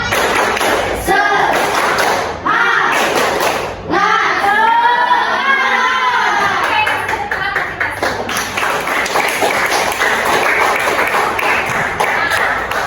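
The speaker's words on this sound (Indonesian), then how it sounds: "Ayo, 1, 2, 3, tepuk semangat." A class of students doing an Indonesian rhythmic spirit clap, loud patterned group claps and thumps close by, broken by brief pauses, with children's voices calling out along with the rhythm.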